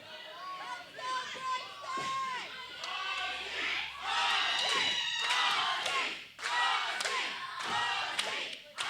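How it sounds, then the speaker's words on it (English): Wrestling fans at an EPW event chant and cheer steadily throughout, a dense arena crowd roar with thuds of in-ring action and scattered shouts rising and falling. "The EPW faithful chanting for Azie, cheering him on."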